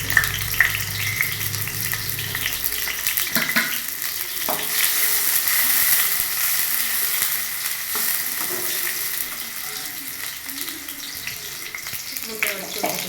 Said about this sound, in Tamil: இது எண்ணெய் சூடானதும் கொஞ்சம் பெரிய வெங்காயம்,